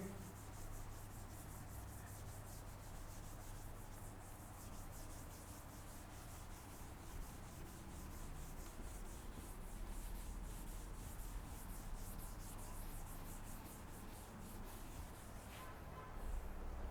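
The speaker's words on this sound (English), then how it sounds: "Let me rub this off with a blackboard" A blackboard is rubbed clean of writing with continuous soft scrubbing strokes, faint and steady for the whole stretch under room hum.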